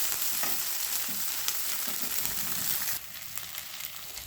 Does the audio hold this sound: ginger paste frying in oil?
yes